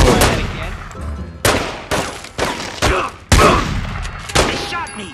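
Repeated gunfire in The Godfather II video game: sharp, loud shots in uneven bursts over about five seconds, with a broadband crack on each report and some background noise between them.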